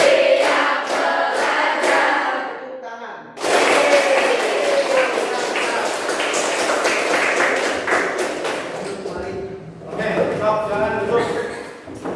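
Classroom group clapping in sharp rhythmic patterns, counted sets of claps broken by a brief pause, with children's voices chanting along over the beats.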